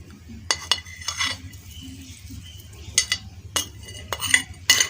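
A spoon adds chopped garlic and green chillies into flour for Punjabi tandoori missi roti, giving a handful of sharp metallic clinks and scrapes against the bowl, scattered and close, with no talking.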